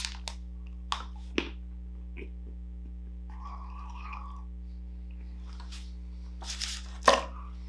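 A Feastables chocolate bar snaps as a piece is broken off, giving a few sharp, close cracks spread across a quiet room with a steady low hum underneath, ending in a louder final break.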